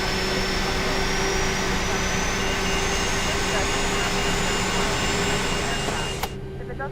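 Both jet engines of a Boeing 737-300 Classic are running in the X-Plane 11 flight simulator, a loud, constant roar with a high whine that drops off near the end.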